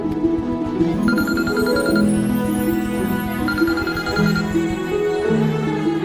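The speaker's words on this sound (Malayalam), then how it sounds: "ഒന്ന് രണ്ട് ഫോൺ റിങ് ചെയ്യുന്നുണ്ട്, എടുത്ത് ആരാന്ന് നോക്ക്" A mobile phone rings with a steady, repeating electronic ringtone, loud and close, playing the full length with no talking over it.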